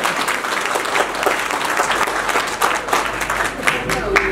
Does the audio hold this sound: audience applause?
yes